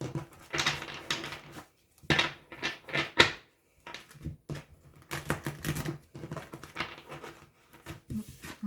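Tarot cards being shuffled by hand, a run of crisp, papery riffles and flutters in short bursts separated by brief pauses, close and fairly quiet, with no talking.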